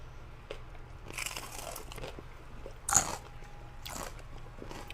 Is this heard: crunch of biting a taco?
yes